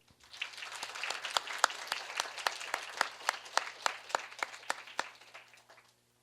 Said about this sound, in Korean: 여러분 뜨거운 박수와 함께 정대성 씨를 맞이해 주시죠.